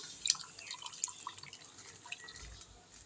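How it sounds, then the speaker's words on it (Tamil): Faint watery drips and splashes, scattered and irregular, as water is poured into a metal pressure cooker in a quiet room. "தண்ணி ஊற்றிக்கலாம்"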